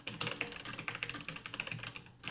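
Rapid, steady clatter of typing on a Logitech G810 Orion Spectrum mechanical gaming keyboard, keys struck in quick irregular bursts, close and clear with no voices.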